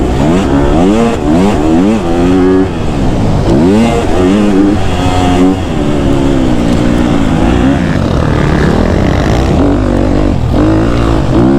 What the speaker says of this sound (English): You really have to rev this KTM out.